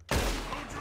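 A loud gunshot in Red Dead Redemption 2 cracks sharply after a brief near-silence, then rolls into a long, booming reverberant tail.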